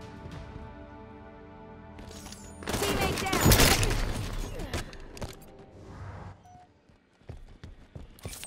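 Gunfire from a Halo 5 Slayer match with a DMR rifle: quiet game ambience, then a dense burst of loud shots and impacts in the middle, with a few sharper single cracks near the end.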